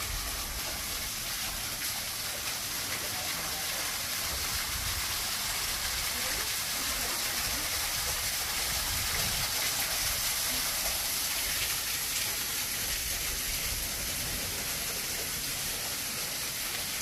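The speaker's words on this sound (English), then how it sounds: "Some waterfall here." Waterfall inside a cave in Mombasa, a steady broadband rush of falling water that fills the space evenly throughout, with a person speaking faintly over it.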